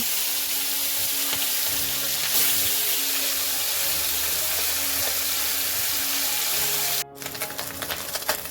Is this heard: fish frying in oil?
yes